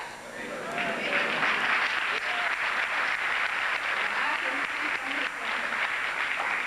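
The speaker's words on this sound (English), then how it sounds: "Those applause weren't strong enough." A lecture audience breaks into sustained applause, a steady wash of many hands clapping that holds at an even level throughout, with a few faint voices mixed in.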